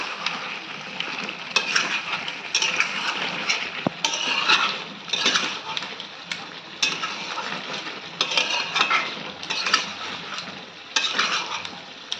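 Chicken posto sizzles in a pan with ghee, a continuous close frying hiss broken by repeated stirring scrapes and light clinks of a utensil on the pan.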